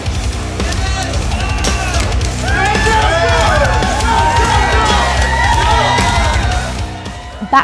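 A lively crowd at a record attempt for releasing mouse traps on the tongue cheers, yells and whoops continuously, with a voice talking over the noise.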